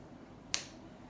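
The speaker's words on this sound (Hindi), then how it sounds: "चुटकी बजाना रह गई थी" A single sharp finger snap, close and crisp, standing alone against a quiet room background.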